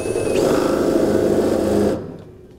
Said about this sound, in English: we can take a pilot bit and we can run it through, and we'll go from the top side and clean out the hole